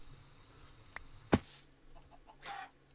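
A chicken in the Minecraft video game gives a few short clucks, with one sharp louder cluck in the middle and a fainter squawk near the end, over a quiet game background.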